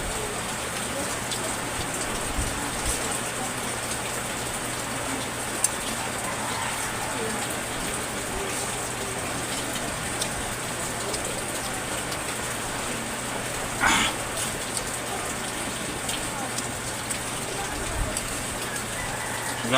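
Steady heavy rain pours down continuously during a long midday downpour, a dense even hiss with a brief louder patch partway through, and no clear talking over it.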